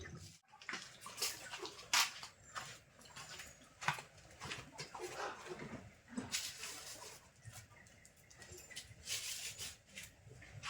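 Water gurgles and splashes unevenly as it fills a 3-litre plastic poultry drinker, close by, with soft clunks and bubbling pulses over a low background.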